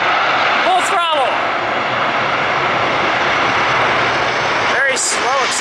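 A jet airliner's engines roar steadily at full throttle during its takeoff roll, a loud, continuous broadband rush, with a voice briefly speaking over it near the start and again near the end.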